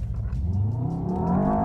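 A 2023 Mercedes-AMG S63 E-Performance pulling away from a standstill, its engine note rising steadily in pitch and volume as it accelerates, heard alone and close.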